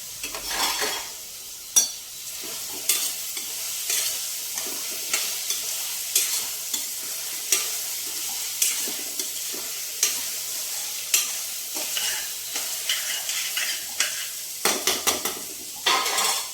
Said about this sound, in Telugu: ఈ ఉల్లిపాయతో పాటుగా మనం ములక్కాయ ముక్కలు కూడా వేసేసుకుందామండి. ఇవి కూడా వాటితో పాటుగా వేగుతాయి.